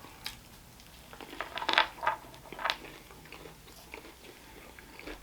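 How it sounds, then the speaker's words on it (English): Someone bites into a Burger King crispy chicken sandwich close to the mic, giving several sharp, crisp crunches in quick succession followed by quieter chewing. "And the chicken does have a nice crunch to it."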